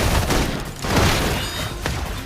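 A sustained, dense barrage of suppressing gunfire in the video game Love & Deepspace, loud rapid overlapping shots and booms rolling together without pause.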